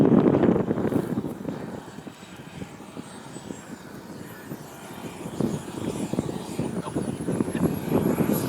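A large F-86 model jet flies at an outdoor scale air show, its engine roar rising and falling as it passes at a moderate distance, over steady ambient noise.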